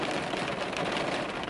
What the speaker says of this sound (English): And it just started raining.